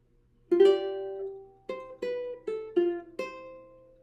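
Solo ukulele picks out a melody fingerstyle, a handful of distinct plucked notes each ringing out, near and unaccompanied, with no voices.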